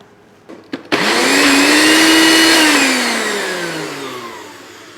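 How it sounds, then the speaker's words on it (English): A blender purees carrots with lemon olive oil. It starts after a couple of short clicks and runs loud and close in one continuous whirr, its pitch bending and sagging as the mixture churns before it fades slightly. "just pop it back on to blend for a second time."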